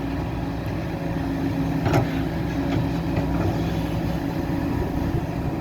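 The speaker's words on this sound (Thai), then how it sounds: "เสียงเครื่องยนต์เนี่ยนิ่มนะครับ" A SKQ40LC-8 Super XM excavator engine runs at a smooth, steady idle, giving a continuous low rumble at moderate distance with no voices.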